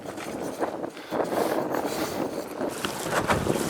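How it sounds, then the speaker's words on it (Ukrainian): Wind at Lake Okhnych, a broad steady rushing roar buffeting the microphone with gusty surges, mixed with water movement, loud and constant with no talk. "сьогодні трошки вітряний день"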